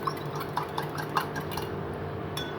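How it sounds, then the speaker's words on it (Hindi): Iced tea ingredients being stirred in a glass or pitcher at home, a spoon making light, irregular clinks and taps against the vessel over a soft background hum, fairly close and quiet. "अब मैं इसे मिक्स करूँगी"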